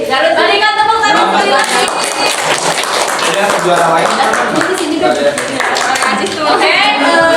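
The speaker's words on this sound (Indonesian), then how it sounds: "Berikan tepuk tangan." Classroom audience clapping after a student presentation, dense and continuous, with voices and chatter mixed in and someone speaking over the applause.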